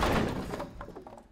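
A single heavy door thud in the Henry Stickmin video game, a short dull impact that quickly fades.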